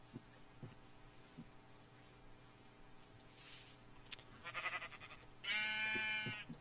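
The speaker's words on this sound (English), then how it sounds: "I honestly think that these sheep are trying to kill me." Sheep bleat a few times in short bursts in Minecraft over a faint electronic hum, the last bleat louder and longer.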